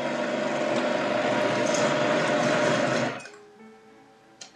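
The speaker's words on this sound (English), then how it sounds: "I don't blend it very much, but I just blend it to mix it" A kitchen blender briefly mixing tomato basil soup made with dry basil: a loud, steady motor whir for about three seconds that then cuts off, leaving faint clinks.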